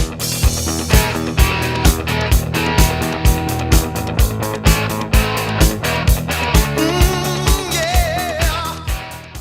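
Rock drum beat from the 1970s played on a full drum kit, with a steady kick, snare backbeat and cymbals, close and loud, joined by other instruments and rising melodic sounds near the end.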